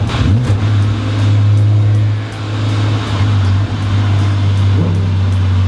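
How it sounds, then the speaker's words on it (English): A loud, steady car engine drones up close, a V10 in a Lamborghini Huracán Squadra Corse held at high revs with slight rises and dips, with no one talking. "that freaking V10 in front of me sounds so good"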